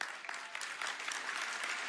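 Audience applause at the National Prolife Summit, a steady wash of many hands clapping together, continuous and fairly close for its whole brief length.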